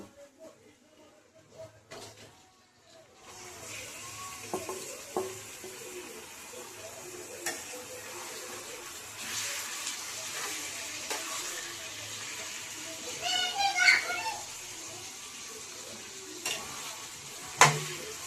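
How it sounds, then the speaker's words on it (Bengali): Marinated chicken hits a pan and is stirred, a soft sizzle building after a quiet start, with scraping spoon strokes and a few sharper clinks near the end. "এবার এই ম্যারিনেট করা মাংসগুলো দিয়ে দেবো।"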